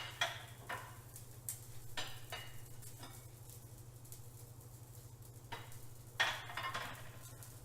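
Salmon fillet searing and blackening undisturbed in a hot pan, giving a faint, steady sizzle over a low hum, broken by a few soft scraping or clinking sounds.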